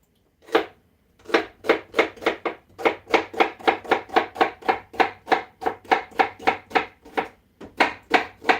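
A knife chops celery stalks on a board in a fast, even run of about twenty crisp, close knocks after a single opening cut.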